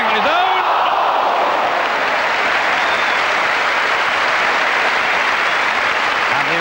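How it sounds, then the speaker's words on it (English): Loud stadium crowd applause and cheering at an Everton v Southampton football match, a dense sustained roar of clapping that fills the whole stretch with no pauses. "And the applause you can probably hear in the background will tell you how pleased the crowd have been with Wayne Clark's home debut for Everton."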